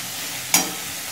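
Chopped tomatoes and spices for a tilapia fish curry fry in a pan with a steady close sizzle, and one sharp scrape or clink of stirring cuts through midway.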